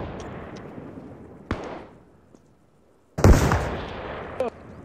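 Rifle fire in Arma Reforger emptying a magazine: a sharp shot, then a quiet gap, then a loud burst of gunfire that rings out and fades, with faint background noise throughout.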